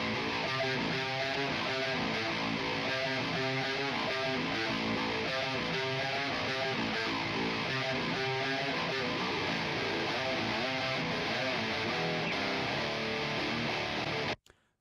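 Heavily distorted metal rhythm guitars, one track through a 5150 amp sim and the other through S-Gear, each boosted by an 808-style overdrive, play a dense, steady chugging riff at full loudness for the whole stretch before cutting off abruptly.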